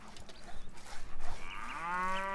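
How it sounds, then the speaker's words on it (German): Dairy cows on a cheese farm in the castle-building game Stronghold: Definitive Edition give a long, drawn-out moo that rises near the end, heard clearly over soft game ambience. "Unsere Kühe."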